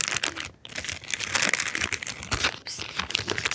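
A plastic bag crinkles and rustles steadily as hands handle it, close and fairly loud, with a short pause near the start and no talk.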